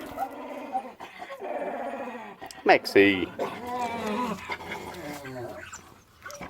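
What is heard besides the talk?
dog growling and whimpering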